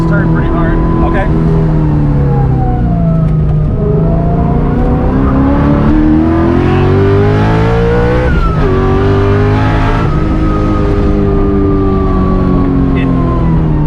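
A Coyote-swapped Foxbody Mustang making 530 wheel horsepower, naturally aspirated, driven hard through a turn; the V8 roars loud and close, revving, dipping and climbing again with a brief lift near the end.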